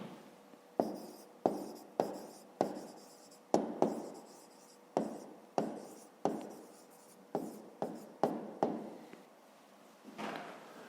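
Pen strokes on paper while a math solution is written out by hand, a series of sharp, close taps and short scratchy scrawls in an uneven rhythm, with no voices.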